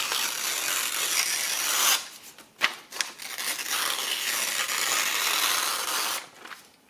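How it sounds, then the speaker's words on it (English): Paper torn by hand at an art table while making a mixed media painting, a long continuous rasping rip, a short pause with a couple of crisp snaps, then a second sustained tear, close and loud. "But I'll just rip into this."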